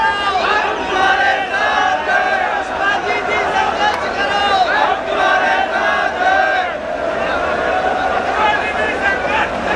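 A large crowd at a political speaking event in India cheers and claps continuously to welcome a speaker onto the stage, a dense, loud roar with shouting voices mixed in throughout.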